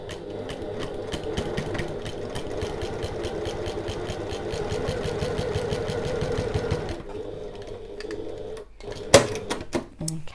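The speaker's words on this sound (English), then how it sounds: "I'm going to back stitch at the start and the end of this" A sewing machine runs steadily for about seven seconds, stitching a tote bag seam with a rapid even needle rhythm, then stops and is followed by a few handling clunks.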